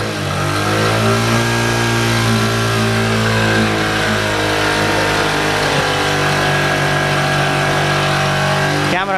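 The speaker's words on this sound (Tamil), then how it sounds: "இன்ஜின் அப்படியே நான் ஸ்டார்ட் த்ராட்டில் கொடுக்குறேன்." A 2018 Bajaj CT 100 motorcycle engine runs loud and close, its steady harmonic drone rising as the throttle is opened and held, with one more throttle blip near the end.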